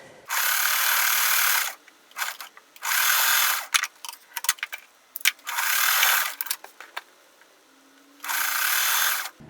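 A sewing machine winding a bobbin runs in four bursts of high whirring, each about one to two seconds long. Between the bursts come short clicks and handling noises, and no one talks.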